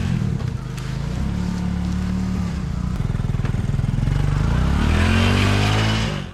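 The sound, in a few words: motorcycle struggling uphill on rocky, wet dirt road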